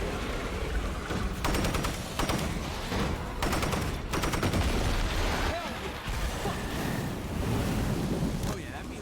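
Gunfire in State of Decay 2, bursts of loud rapid shots against a dense roaring, wind-like background, with a voice speaking at times.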